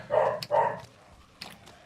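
A pet dog barks indoors at a cat out in the backyard, two loud close barks in quick succession followed by a softer bark after a pause.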